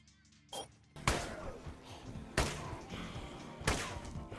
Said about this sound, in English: You heard that, right? Gunfire.